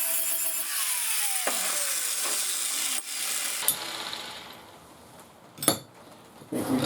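A worn flap disc on an angle grinder polishes steel during a Lotus Seven replica build, giving a loud, harsh grinding rush that falls away partway through and then returns with scattered clanks and scrapes.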